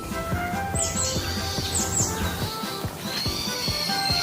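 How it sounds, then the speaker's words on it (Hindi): Several birds chirp and tweet in quick high bursts, some with rising whistled notes, over a busy background of clatter and low hum. "ये चिड़िया की आवाज कहाँ से आई?"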